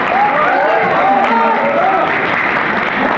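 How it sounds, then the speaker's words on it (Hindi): An audience at a Republic Day school play applauds and cheers loudly and continuously, with a voice rising briefly over the noise near the start. "मैं एक बार चाहती हूँ जोरदार तालियों के साथ हमारे प्रथम का स्वागत किया जाए।"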